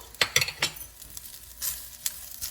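Sesame seeds and dry coconut flakes fry in a pan for Instant Pot mint rice, a soft sizzle broken by several sharp scraping stirs and clinks of a spoon against the pan, close and without speech.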